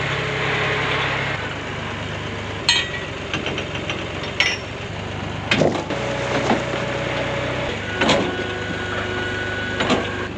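Lumber comes off a trailer for building trusses, with irregular wooden clunks and clatters of boards being handled, a few sharper knocks standing out, over a steady idling engine hum in the background.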